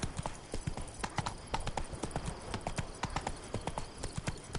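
Roach the horse clip-clops along at a steady walk in The Witcher 3: Blood and Wine, with clear, evenly spaced hoofbeats close by and no talking over them.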